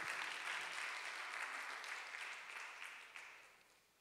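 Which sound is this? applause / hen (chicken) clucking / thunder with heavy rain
applause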